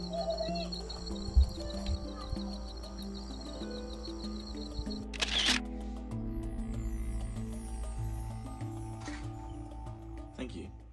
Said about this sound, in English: All you can hear is the birds chirping